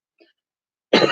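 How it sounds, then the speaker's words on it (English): A single short close cough, abrupt and loud after a moment of near silence with only a faint tiny click before it. "Excuse me, coughing and spluttering."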